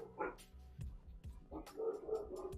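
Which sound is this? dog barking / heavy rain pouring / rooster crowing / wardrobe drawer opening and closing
dog barking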